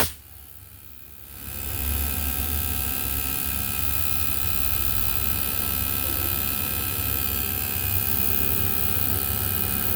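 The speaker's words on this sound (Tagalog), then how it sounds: "Compressor." Panasonic 1 HP inverter split aircon compressor with a history of an H19 error, ramping up after a brief quiet start into a steady, close, humming drone with a tonal whine that holds evenly throughout.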